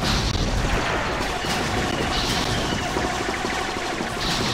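Grenades thrown down a ramp in Star Wars Battlefront erupt in dense, overlapping booms and blasts, loud and continuous, a dense wash of explosive noise with rumbling low end.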